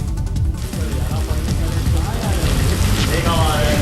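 Heavy rain pours down in Noida, a steady, loud broadband hiss with low rumbling underneath, continuous for the whole stretch with no pauses.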